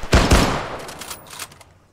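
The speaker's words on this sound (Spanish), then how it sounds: "Vamos hacia adelante, abriendo fuego." Gunfire from the military video game Arma 3 cracks out in two loud, close shots in quick succession, followed by fainter distant shots and echoing reports fading away, with no talk.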